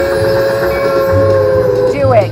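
A train sound effect plays loud and close in a Midnight Express slot machine game, a steady whistle-like tone that bends upward at the end.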